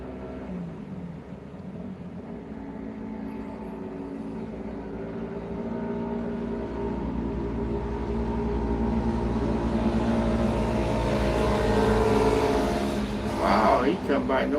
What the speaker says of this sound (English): Oh, we got a loud motorcycle